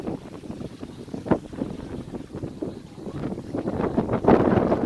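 Strong wind at Lung Mei beach in Tai Po, Hong Kong, buffets the microphone in a steady rough rumble with gusty surges, growing louder toward the end.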